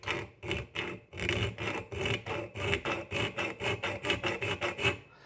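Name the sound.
round file filing a divot in a jaw harp frame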